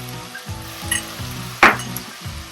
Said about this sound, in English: I'm going to saute this for about a minute